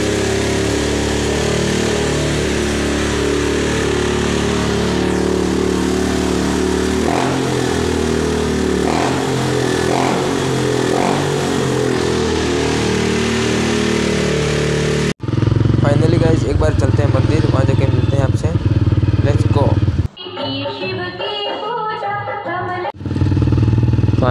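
A motorcycle, a Bajaj Pulsar-type bike, idles loudly up close with a rough engine drone, then the sound shifts into sharper revving bursts with short breaks.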